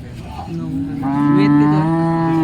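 A cow at a livestock market gives a long, low moo that swells louder midway and holds steady, close and clear, with no other voices.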